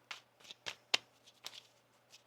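Tarot cards being shuffled by hand at close range, a series of soft crisp riffling bursts at an uneven pace in a quiet room.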